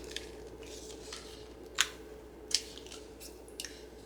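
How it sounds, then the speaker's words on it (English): Scissors trimming a card journal page: soft, close snips, two clear cuts about a second apart, then a couple of fainter ones, over a quiet room hum. "I just took my scissors and I trimmed it"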